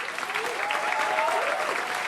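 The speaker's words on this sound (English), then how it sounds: "let's start off with a nice big round of applause" A comedy club audience at Komedia Brighton claps steadily for a couple of seconds, a moderately loud wash of applause with a few whoops and cheers riding over it.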